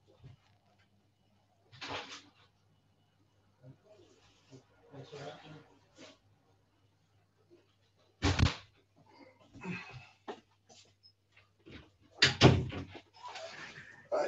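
Front door opening and closing in a home during a work-from-home morning, with a few scattered thumps and clunks set apart by quiet gaps, heard at moderate distance alongside faint household noise.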